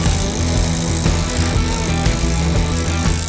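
Power saw cutting a 12 3/4 inch pressure blocking piece for a wood deck joist run, a loud steady whine held through the whole stretch with no talk.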